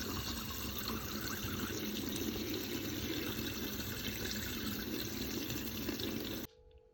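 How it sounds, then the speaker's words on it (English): Cold tap water runs steadily over a small 5 g PAMP gold bar held under the faucet, a continuous close splashing stream that stops abruptly near the end. "I'm going to wash it with cold water"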